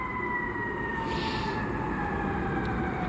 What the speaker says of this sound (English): Sorry about these sirens.